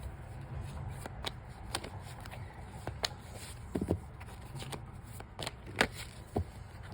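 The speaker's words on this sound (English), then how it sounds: "I'm going to shuffle this back in here" Tarot cards are shuffled up close and fairly quietly, giving soft riffling and several sharper flicks and taps at irregular moments over a low background hum.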